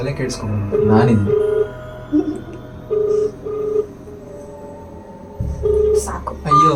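Ringback tone of an outgoing phone call, short paired electronic tone bursts repeating with gaps, fairly clear alongside people talking.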